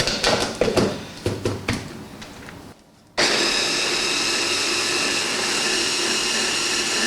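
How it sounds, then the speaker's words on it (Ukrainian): A blender whirs loudly blending chopped watermelon: first a few choppy, uneven bursts of blade noise, a brief pause, then a steady continuous roar of blending. "Ми його збиваємо в блендері."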